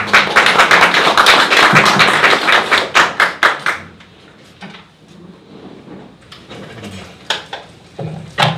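A small crowd at an outdoor civic rally in Korea claps to welcome a speaker, loud and dense at first, then thinning out into scattered, irregular claps that trail off near the end.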